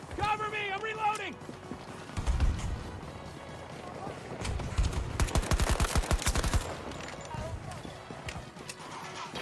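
Tap-fired gunshots in Battlefield 2042 on PS5: short bursts of sharp, loud reports in quick rhythmic clusters, one heavy volley in the middle, mixed with game effects and voices talking.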